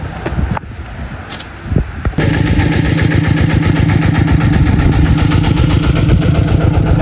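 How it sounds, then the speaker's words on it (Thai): A walking tractor engine chugs steadily at close range in a rice field, a loud rapid clattering idle that starts abruptly after a couple of seconds of quieter background noise. "เดี๋ยวมีเสียงรถไถอยู่"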